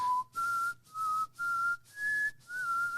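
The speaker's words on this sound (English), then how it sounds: "put his DX7 on the stock whistle sound and was out of ideas" Six short, steady whistle-like tones from a Yamaha DX7 stock whistle patch repeat in an even rhythm, each slightly shifting in pitch, clear and alone.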